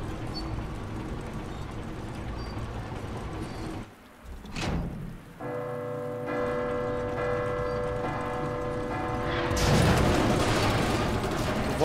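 Clock tower bell strikes in the video game Resident Evil 2, a steady series of sustained, ringing bell tones layered over game ambience, fairly loud and alone without speech.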